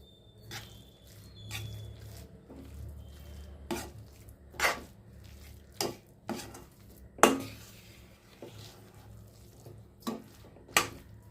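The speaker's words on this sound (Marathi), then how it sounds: "आता त्यामध्ये थोडी वेलची पूड घालून घेऊया आणि मिक्स करूया" Spoon stirring cardamom powder into a sweet chana dal puran filling for Maharashtrian puran poli, heard as a string of separate soft scrapes and taps against the vessel at irregular intervals, close by and fairly quiet with no talking.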